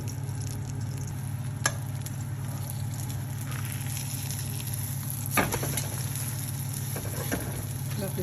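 A spicy masala egg omelette fries steadily in a pan over a low to medium flame, giving a continuous close sizzle with a low hum beneath and a couple of brief clinks partway through.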